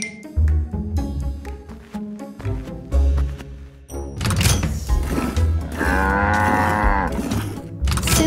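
Cows moo in a series of loud, close calls with short pauses between them, ending in one long, drawn-out moo.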